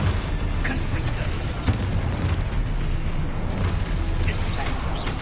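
Dense, continuous rumbling blasts and booms from a fire-blasting spell in a video game, loud and close, with shouted spell incantations over the noise.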